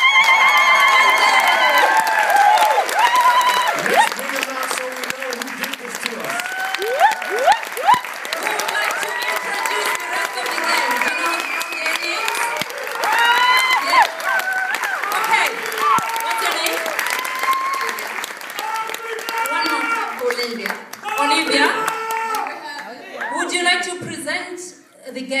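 Concert audience applauding and cheering for the band, a long stretch of loud clapping mixed with whoops and shouts, gradually thinning toward the end with voices heard in the crowd.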